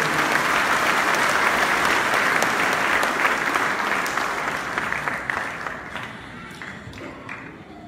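A congregation at a church wedding ceremony claps hands in sustained, dense applause that gradually tapers off toward the end.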